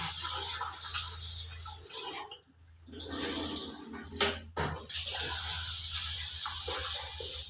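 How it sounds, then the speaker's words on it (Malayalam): Water runs steadily with splashing and sloshing as rice is washed in warm water, a brief pause partway through, then continuous pouring and swishing resumes close by. "അരി എല്ലാം എടുത്തിട്ടുണ്ട് കഴുകി ഇട്ടേക്കാം"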